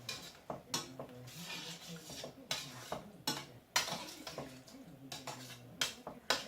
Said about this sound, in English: We're going to add some cream of mushroom soup, and we're going to dissolve that into the wine.